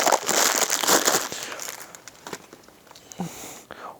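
Plastic bearing packaging crinkles and rustles close by in a dense burst, then thins to a few scattered crackles and taps.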